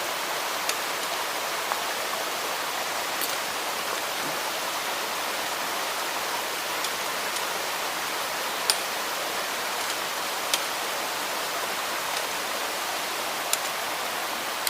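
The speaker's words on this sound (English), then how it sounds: "crossing the creek. There's 3 of them here, coming down through this hollow" A creek flows through a hollow on a hiking trail in Shenandoah, a steady, loud, broadband rush of water with occasional faint clicks and no voices.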